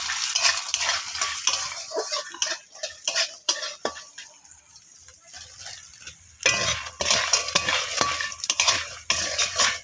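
Lentil dumplings (bori) frying in hot oil in a pan, with loud spatula stirring and scraping against the metal over a soft sizzle, in uneven bursts with a quieter stretch midway.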